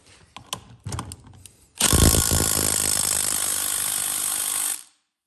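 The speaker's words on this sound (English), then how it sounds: "Now we're going to impact it." Impact wrench hammers a flywheel nut onto a Honda UT2/UT3/160 engine. A continuous loud, rattling burst lasts about three seconds and stops abruptly. A few short clicks and clanks come just before it.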